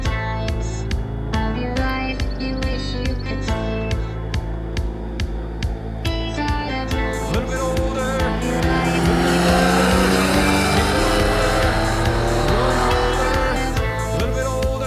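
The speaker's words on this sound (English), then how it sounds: "That was a triple cylinder" A triple-cylinder motorcycle engine with an Aero exhaust revs hard and loud, rising and falling through rapid pulsing gear runs, close and continuous.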